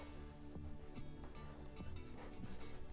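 Close, quiet rubbing across a homemade Christmas chalkboard craft, a soft continuous scrubbing friction with faint rhythmic strokes, no talk.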